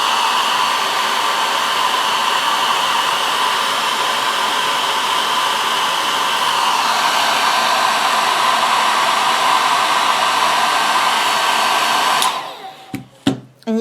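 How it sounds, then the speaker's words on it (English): A hair dryer blows loudly and steadily at close range, shifts pitch slightly midway, then clicks off near the end with a few handling knocks. "I'm going to just dry it with my hair dryer."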